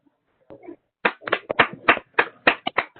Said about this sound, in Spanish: Pedimos un fuerte aplauso para la ponente